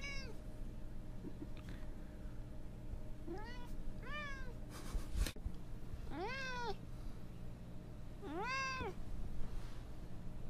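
Cat meowing repeatedly indoors, five or so drawn-out rising-falling meows spaced a second or two apart, moderately close over a low background hum.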